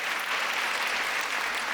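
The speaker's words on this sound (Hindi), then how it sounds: "एक बार जोरदार तालियां कविता तिवारी के लिए बजा दीजिएगा" A kavi sammelan audience in Kolkata bursts into loud, dense applause for poet Kavita Tiwari at a Holi-themed poetry gathering, a continuous wash of clapping with no voices.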